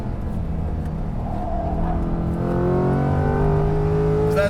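A 2020 Corvette C8 Z51 on a track, its engine droning steadily and climbing in pitch as it accelerates, loud and close with rising harmonics, and no talking.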